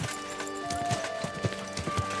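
Horse hooves clip-clop in a steady trotting rhythm as a summoned horse approaches in the medieval video game Kingdom Come Deliverance 2, heard over a constant ambient game background with no voices.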